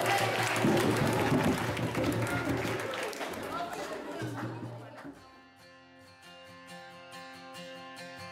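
Audience applause with chatter at a school event honoring a pastry chef who baked many cakes; lively clapping and crowd noise fade over a few seconds, giving way to music at the end.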